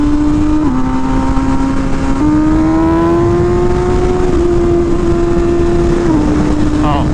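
An MV Agusta Rush motorcycle engine drones loudly and steadily while riding, its pitch holding fairly level with small shifts as the throttle changes, over constant wind and road roar.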